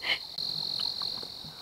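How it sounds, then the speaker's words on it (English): A cicada in a garden buzzes with a steady, high, continuous whine, close and clear, after a brief sharp chirp at the start. "There's a cicada in the garden"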